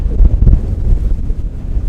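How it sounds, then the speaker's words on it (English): Strong wind buffeting a campsite under a natural shelter, a loud continuous low rumble and roar pressing against the microphone, with no voices. "Then this, the wind."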